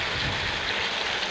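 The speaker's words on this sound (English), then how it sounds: "Water seems to be spraying pretty well out of the sprays" Water spraying steadily from the spray bar of a Sluicy GS10 highbanker, a continuous close hiss and splash with no pauses and no talk.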